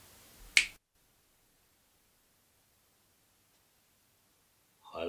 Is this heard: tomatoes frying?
no